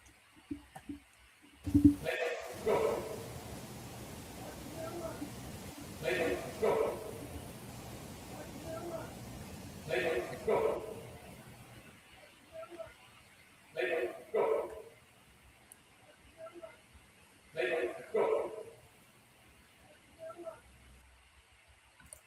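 A dog barks in short bursts with pauses between them, heard in a quiet recording alongside faint voices.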